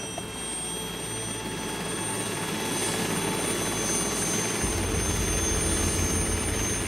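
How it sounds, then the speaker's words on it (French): Steady turbine whine and low rotor thrum from an Alouette II helicopter fill the cabin, loud and continuous with no talk. "Dans l'hélicoptère"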